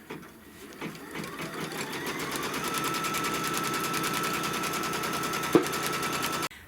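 An embroidery machine stitches a placement line on stabilizer for batting, a steady, close, rapid mechanical whir and needle chatter running continuously after a short start-up, with one sharp click near the end.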